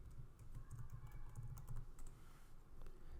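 Typing on a computer keyboard while entering a password: a quick, soft, continuous patter of key clicks with small irregular pauses, close to the microphone and not under any talk.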